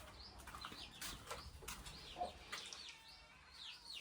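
Chickens around a rural yard in Thailand in the early morning, faint clucking and flapping wings with a few bird calls, quiet and somewhat distant.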